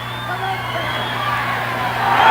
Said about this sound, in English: Crowd is yelling.